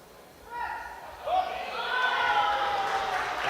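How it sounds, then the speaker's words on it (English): Australian fans in the crowd at the 2024 World Classic Powerlifting Championships, women's 69 kg, yelling for their lifter on the platform. Shouts build and swell into sustained loud cheering and hollering. "And you can hear the Aussies in the crowd."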